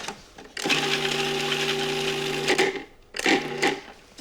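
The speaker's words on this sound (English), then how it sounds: "Just process that until the garlic and the parsley are minced." A food processor buzzes in two bursts while mincing garlic, parsley, anchovy paste and Dijon mustard, a steady motor whine for about two seconds, a brief pause, then a shorter pulse.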